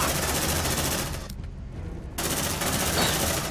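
Sustained automatic gunfire in the sci-fi game Aliens: Dark Descent, a loud, dense barrage that breaks off briefly partway through and then resumes just as heavily.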